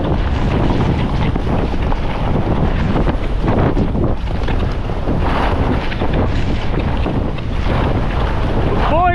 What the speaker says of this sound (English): Boy, she's windy.